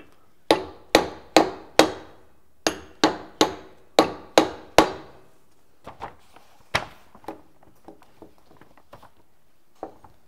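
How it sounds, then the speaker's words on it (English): Loud, sharp rubber hammer blows land in two quick bursts of strikes on a transparent hydraulic cylinder, each ringing briefly, followed by softer, scattered taps and knocks. "I take a rubber hammer."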